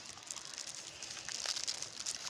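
Old, worn plastic waste is handled and crumpled outdoors, giving soft, irregular crinkling and crackling that stays fairly quiet and close throughout.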